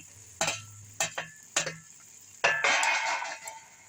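Prawns go into a bottle gourd curry in a pan: a few sharp clatters of the spoon against the pan, then a louder burst of sizzling and bubbling as stirring continues, close and with no voices.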